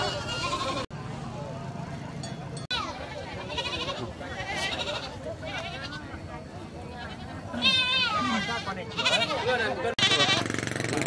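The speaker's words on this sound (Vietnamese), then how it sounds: "Dưới này thì dê này, trên này là trâu này." Goats bleat repeatedly amid the bustle of a highland village livestock market in northwest Vietnam, with buffalo nearby; several loud bleats rise over continuous crowd chatter and someone talking throughout.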